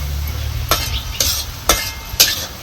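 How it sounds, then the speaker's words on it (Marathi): Safflower greens being stirred and sautéed in their own released water in an iron pan, with a soft sizzle underneath and four sharp scraping clinks of the spatula against the pan at roughly half-second intervals, close up. "आता ह्याच पाण्यात आहे का नाही भाजी आपली चांगली परतून घ्यायची."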